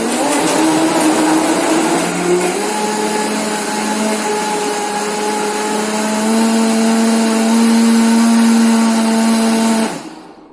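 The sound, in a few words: blender blending pumpkin pie smoothie with ice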